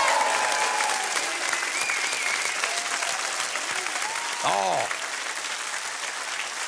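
A crowd applauds the band, steady clapping carrying through the whole stretch, with a host's voice and a short exclamation heard over it.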